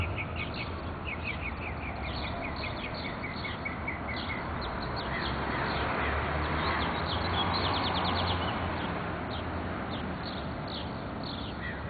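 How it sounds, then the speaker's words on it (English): Morning birdsong in Hollywood: many birds chirp and trill continuously at a distance over steady outdoor background noise, with no talk. "I just want you all to hear the birdies singing in the morning"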